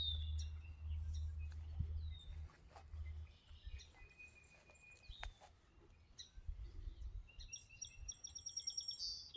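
Songbirds chirp faintly from the trees on a peaceful Amish Country nature walk in Holmes County, scattered short calls over a low outdoor rumble.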